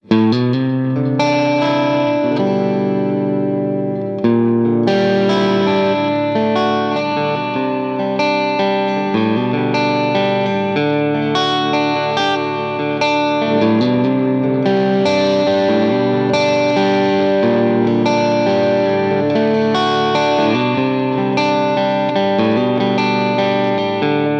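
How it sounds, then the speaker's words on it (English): A clean electric guitar with a bright, glassy single-coil Stratocaster tone plays sustained chords and picked notes, with a touch of modulation and reverb, no talking. "it can sound like an ordinary single coil Strat, just like you hear here"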